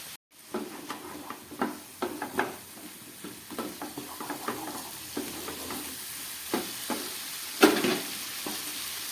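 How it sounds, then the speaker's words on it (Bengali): Pomfret fish frying in a pan for a spicy curry, with a lively crackling sizzle and frequent clattering stirs and scrapes of a utensil, close and fairly loud after a brief silent start. "খুব ভালো করে এটাকে আমি এবার ভেজে নিচ্ছি।"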